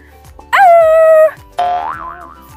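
A person imitates Tarzan's call with two loud sustained vocal yells, the second wavering up and down, close to the listener over faint background noise.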